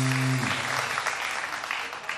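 Studio audience on a Pakistani morning television show bursts into applause after a band's performance, a dense steady wash of clapping that follows a brief low musical tone at the start.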